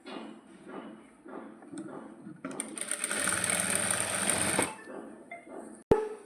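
A sewing machine stitches the lining of a maxi dress in one steady whirring run of about two seconds, fairly quiet, between softer handling noises.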